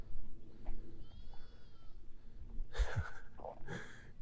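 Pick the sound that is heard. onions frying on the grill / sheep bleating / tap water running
sheep bleating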